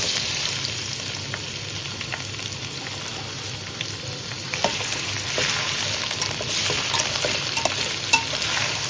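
Ivy gourd (dondakaya) sizzling steadily in a hot pan while being stirred, with scraping stir strokes over continuous frying crackle, close and fairly loud, no talk.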